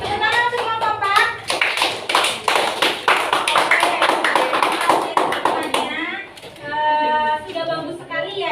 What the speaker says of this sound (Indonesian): Tepuk tangan semua Bapak.